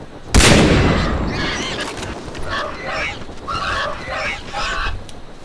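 A single loud gunshot from a firearm in the video game Far Cry 3 cracks out near the start and decays into a rumbling tail, followed by honking, goose-like calls from game creatures.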